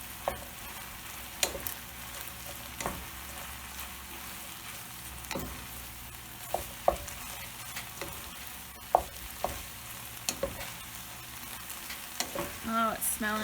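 A pinch of Chinese five-spice blend is stirred through food in a pan, a soft, fairly quiet sizzle with scattered light clicks and scrapes of the utensil, and no talking.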